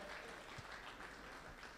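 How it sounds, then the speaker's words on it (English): Audience applause at an awards dinner, a dense, even patter of many hands clapping at moderate loudness, heard as a short steady burst. "So a round of applause for each and every one of you."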